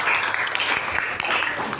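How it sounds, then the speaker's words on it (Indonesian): A classroom of students claps for a classmate. The applause is dense and steady, close by, and lasts under two seconds, with faint voices mixed in. "tepuk tangan buat Isan"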